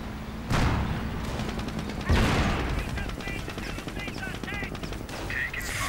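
Machine gun fire from a World War II real-time strategy game match, with loud rattling bursts and heavy impacts layered into a dense battle mix, plus a few chirpy effects near the end.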